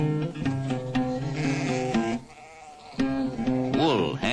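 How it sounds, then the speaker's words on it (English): Black goats herded by nomads in 1960s Turkey bleat in wavering, drawn-out calls, one after another, fairly close over a steady background. "The black goats have helped to erode the hillsides, but they provide milk and meat for the nomads who herd them"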